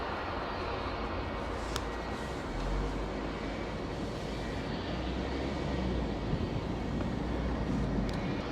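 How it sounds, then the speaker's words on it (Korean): An airplane flies near an airport, heard from inside a BMW 420i convertible, a steady broad roar that holds throughout the clip with some wind noise and no talk. "공항 쪽이라 비행기 소리 들리네요"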